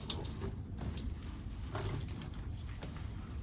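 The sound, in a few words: watering a repotted wild cherry sapling, washing off the pot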